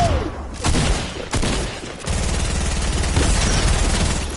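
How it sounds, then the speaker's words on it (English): Rapid video game gunfire crackles in dense bursts, loud and close, with short breaks between volleys and sustained firing through the second half. "Look at you go shooting them"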